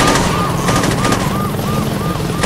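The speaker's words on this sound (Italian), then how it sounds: "È già arrivato un altro elicottero. Io non ci credo." Helicopter arriving in the video game Saints Row 2, a loud, continuous rotor drone mixed with bursts of gunfire and a repeating electronic wail throughout.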